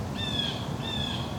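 A bird in the woods gives two clear, high whistled calls in quick succession, faint over soft outdoor ambience.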